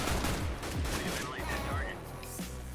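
Counter-Strike: Global Offensive gunfire crackles in rapid repeated shots during the first half, with a player's voice talking over it, then the shooting thins out.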